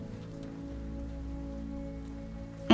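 Steady rain patters on a boathouse at night, a soft, even wash of drops heard alone with a faint low hum beneath, ending in a brief louder knock.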